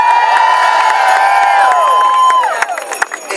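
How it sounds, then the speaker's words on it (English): A large outdoor rally crowd at a public media march cheers and whoops loudly and continuously, with raised voices layered together and some clapping in the mix that tapers off toward the end. "So let's give them a round of applause."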